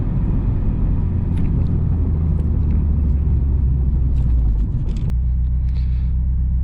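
Subaru Impreza WRX STi Ver.9 Hawkeye driving, a continuous deep engine and road rumble heard from inside the cabin, steady and fairly loud with small clicks and knocks over it, no talk.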